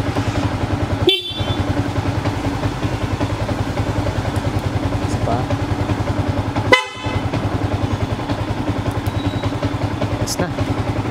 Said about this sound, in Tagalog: naikabit na natin tong ating PIA horn